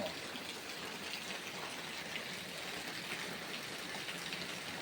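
Dense, steady rainfall hisses evenly throughout, a soft continuous patter with no voices heard.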